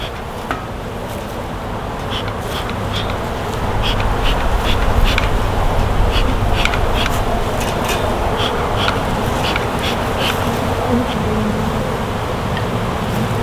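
A swarm of honey bees drones steadily at a hive, a loud, close, continuous buzz with individual bees whizzing past throughout.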